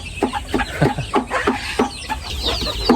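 Bantam chickens clucking in a repeated, fairly close series of short calls with steady rhythm, a bit of farmyard background underneath and no talking.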